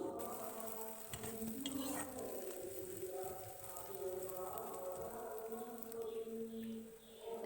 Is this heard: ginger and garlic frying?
yes